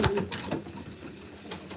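Pigeons in a loft give soft, low coos and rustles, close and brief, with a sharp knock at the start and quiet ambient noise after.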